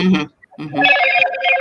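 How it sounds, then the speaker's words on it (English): A phone rings with bright, repeating electronic tones, loud and close, right after a brief spoken phrase and a short pause. "Oops, sorry, that was my phone."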